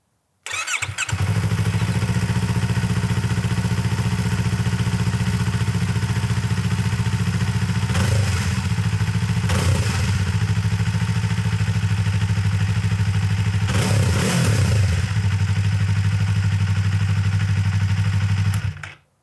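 A stock-exhaust 2024 Yamaha MT-03 two-cylinder motorcycle starts up and settles into a steady, loud, near idle, with a couple of brief clattery bursts partway through and no talking.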